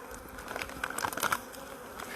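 Honeybees buzzing around an open hive during a hive inspection, a close, continuous droning hum with brief rustles and crinkly handling noises from the frames.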